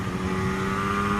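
Yamaha racing motorcycle engine held at high revs, a close, continuous buzzing whine with steady harmonic tones, loud and unbroken with no voices.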